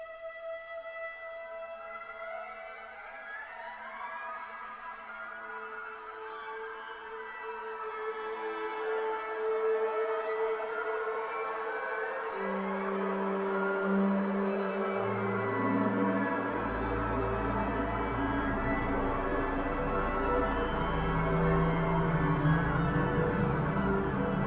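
Aleatoric string orchestra from Soundpaint plays sustained harmonics and shimmering textures that build in density and drop down through octaves, with a deep low register entering near the end and steady, swelling loudness.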